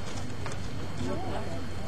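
Horse hooves clip-clopping at a gallop during a race, a steady rapid patter with crowd voices and a tonal call mixed in over a noisy background.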